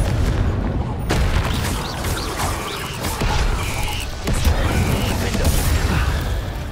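Confringo spell blasts in the video game Hogwarts Legacy: loud, booming explosions and crashing impacts over a continuous rumble of combat, several sharp hits landing in quick succession amid dense game effects.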